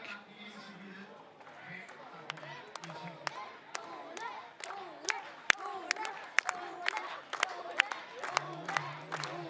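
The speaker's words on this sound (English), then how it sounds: "I'm sure you can hear the crowd here cheering Ole on." Spectators cheer and clap at an outdoor jousting final at a castle, a faint, scattered crowd sound with sharp claps and hoofbeats heard under a commentator's talk.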